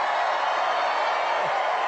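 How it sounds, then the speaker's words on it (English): A large crowd at a Donald Trump MAGA rally in North Carolina roars in a steady, dense wash of cheering and whooping that fills the whole moment without a break. "What a nice crowd this is."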